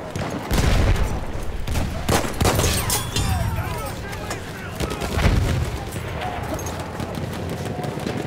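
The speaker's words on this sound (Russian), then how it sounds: "Вражеский пулемет!" Enemy machine gun fire in the game Battlefield 1, Tsaritsyn map, heard as bursts of rapid gunfire and loud blasts in a busy battlefield din, with a voice calling out in the mix.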